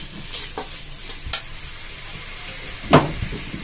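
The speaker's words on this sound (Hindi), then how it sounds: "अब ये मसाला भूनिएगा" Masala spice paste for chhole frying in a pan, a soft steady sizzle broken by a few scraping stirs and clinks of the spoon, one sharper knock near the end.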